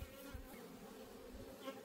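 Honeybees buzz in a steady, dense drone as a honey-and-pollen frame is shaken out into a beehive, with brief thumps and a low continuous hum throughout.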